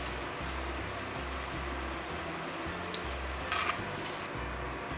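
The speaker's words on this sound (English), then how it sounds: "you're gonna keep frying and let the oil soak through the paper towel" Tortilla strips fry in hot oil for chilaquiles, a steady crackling sizzle with rhythmic low bubbling pulses, close and continuous with no talking.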